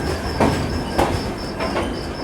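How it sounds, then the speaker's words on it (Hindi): The Mandore Express rolls into an Indian railway station, a steady rumble with a few rhythmic wheel clatters and a faint high squeal, moderately loud and heard alone. "और यहाँ पर अभी आ रही है मंडोर एक्सप्रेस"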